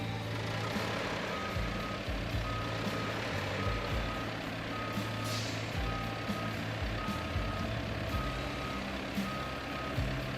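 A heavy truck reverses in the video game RoadCraft, its backup alarm beeping steadily over a low, constant diesel engine rumble for about ten seconds with no talking.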